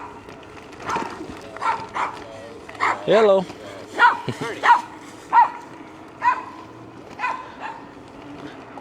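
Small dogs bark and yip in sharp, repeated bursts at a moderate distance at an electric scooter, while a person speaks briefly over a low background hum.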